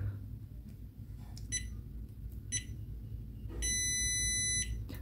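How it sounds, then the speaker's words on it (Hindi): A JK smart BMS, an 8S 200A Bluetooth battery management board, powers on with two short electronic beeps followed by one long steady beep, fairly faint over a low constant hum. "दो शॉर्ट बीप, एक लॉन्ग बीप, यानी कि BMS ऑन हो चुका है"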